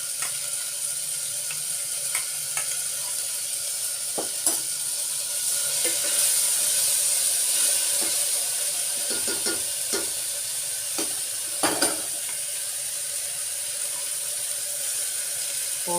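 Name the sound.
roasting spices on a low flame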